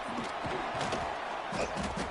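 A football stadium crowd during a Delaware game, a steady broad murmur of many voices at a distance, without strong cheers or peaks.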